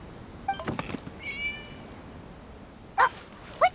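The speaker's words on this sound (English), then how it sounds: "It was just a cat." A few short video game cat meows, thin and slightly electronic, scattered across a quiet background, with brief high chirping notes in between.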